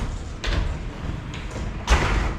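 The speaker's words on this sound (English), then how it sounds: "these big wooden panel doors that slide all the way across." Large wooden panel doors in a Maui ocean-view villa slide across their track, giving two or three muffled rolling rumbles and a soft thud near the end, close by with no talking.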